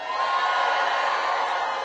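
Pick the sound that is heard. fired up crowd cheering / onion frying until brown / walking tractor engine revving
fired up crowd cheering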